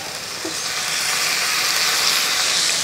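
Soy sauce poured into a hot pan of sizzling restaurant-style noodles, a steady loud hissing sizzle with a brief splash near the start, rising slightly and continuing without talk.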